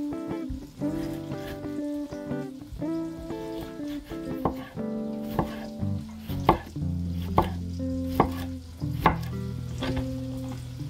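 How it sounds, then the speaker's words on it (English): Tomatoes frying in a pan on a houseboat, with a soft sizzle under clattering pan knocks and scraping, and sharp taps recurring through the second half. "So this is the best way to eat them, throw them in a pan."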